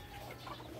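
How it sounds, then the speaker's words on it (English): Bantam chickens cluck softly and briefly in a garden compost area, a faint, low-level murmur of short clucks close by. "So the chicken are very alert"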